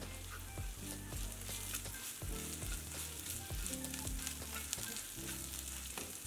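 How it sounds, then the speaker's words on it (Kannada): Onion paste with ginger garlic paste frying in a pan for a kofta curry gravy, a steady close sizzle broken by repeated low thumps and scrapes of stirring, with no voices. "ಈರುಳ್ಳಿ ಪೇಸ್ಟು ಚೆನ್ನಾಗಿ ಕೆಂಪಾಗಿ ಫ್ರೈ ಆಗಿದೆ ನಾನಿಲ್ಲಿ ಅರ್ಧ ಟೀ ಸ್ಪೂನಷ್ಟು ಶುಂಠಿ ಬೆಳ್ಳುಳ್ಳಿ ಪೇಸ್ಟು"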